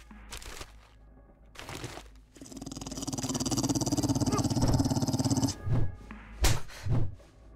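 A dog in a video game gives a few sharp bark-like bursts, then a long, sustained, rough growl lasting several seconds, followed by more quick snarling yelps close up.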